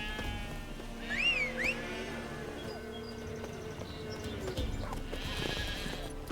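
Horse hooves clip-clopping at a steady walking rhythm in the video game The Witcher 3, with a brief whinny early on and faint background game ambience, no speech.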